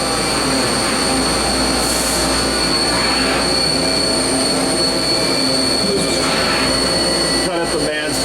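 A factory machine runs a machining cycle on mill and lathe saddles, giving a steady dense mechanical drone with high whining tones and a few brief clatters near the end, loud and constant throughout.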